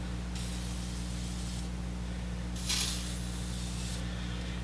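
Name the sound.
spraying penetrating oil onto screw heads of a 1930s gas pump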